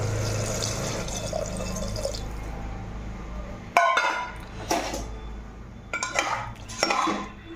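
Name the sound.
pouring water into pressure cooker with spices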